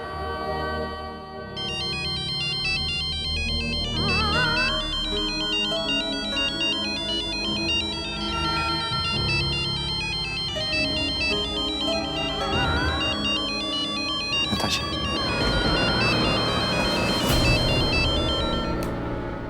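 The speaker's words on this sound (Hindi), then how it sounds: "नताशा, तुम मुझे बार बार फोन क्यों कर रही हो?" A loud electronic phone ringtone plays a repeating melody over and over for a long stretch, with no voices.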